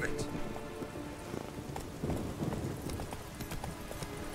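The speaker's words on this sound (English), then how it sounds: "There you go, Roach. Let's go" Horse hooves galloping in The Witcher 3 video game, a steady rapid clip-clop under rain-like ambience, with a person talking over it.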